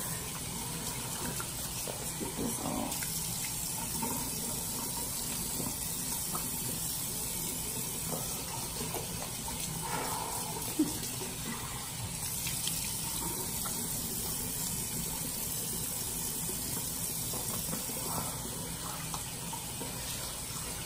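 Tap water runs steadily into a bathroom sink while a clay face mask is rinsed off, a continuous close hiss and splash with faint handling sounds and no talk.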